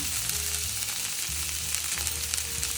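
A paste of ginger, fennel and green chilli frying in hot oil for a vegetarian dum aloo, a steady dense sizzle with a low bubbling undertone, close and continuous, no voices.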